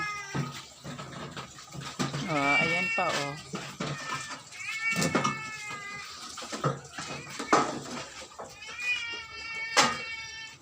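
Several cats meow repeatedly, some drawn-out and wavering, close by, while a person talks briefly between the cries.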